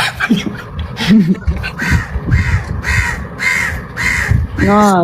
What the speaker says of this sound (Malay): Burung you rancak pagi-pagi.